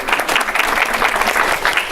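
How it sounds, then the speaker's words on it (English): An audience claps steadily throughout a short, dense burst of applause, loud and close, with no voices over it. "Let's give Lisa a round of applause"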